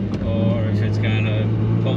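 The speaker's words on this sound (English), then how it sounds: "Let's roll into it in third gear" A Toyota Supra fitted with Bosch Motorsport 2000cc injectors pulls in third gear, a loud, steady engine drone with a strong low hum throughout, heard from close by while someone talks.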